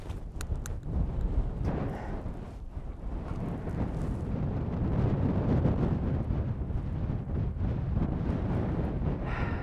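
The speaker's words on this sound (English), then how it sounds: "The wind picked up. It's probably blowing 20, 25 miles an hour almost constantly" Strong, steady wind, blowing at about 20 to 25 miles per hour on Mount St. Helens, buffets the microphone with a deep, continuous roaring rumble for the whole stretch. A few sharper gusts cut through it, and nobody speaks.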